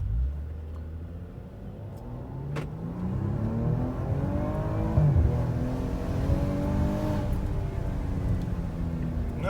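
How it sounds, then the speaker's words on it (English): A Maserati Levante SUV's engine accelerates hard, a loud close growl rising through the revs with turbo boost building, continuous for several seconds without talk. "Listen to that engine. What a wonderful sound."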